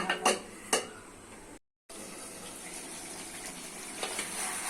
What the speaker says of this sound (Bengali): দিচ্ছি জল